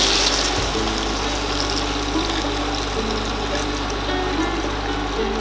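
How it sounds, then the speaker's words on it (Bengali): Two cups of water are poured into a pan of Bengali-style vegetarian jackfruit curry (echor dalna), giving a steady, even rush of liquid over a constant low hum that fills the whole stretch. "অল্প কষানো হলে 2 কাপ জল দিয়ে দেব।"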